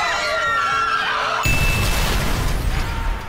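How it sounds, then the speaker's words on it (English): High shrieking voices give way abruptly to a loud, harsh crashing burst that roars on with broadband noise, close and intense. "Loud cracking noise,"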